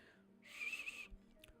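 A voice imitates a high-pitched whistle with one short, thin, breathy tone lasting about half a second, faint and close, followed by a soft breath.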